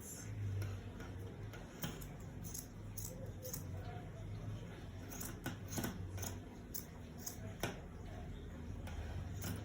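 Scissors snip through cord lace fabric while a baby girl's iro and buba outfit is cut out. Repeated soft, crisp clicks come at an irregular pace against quiet room background.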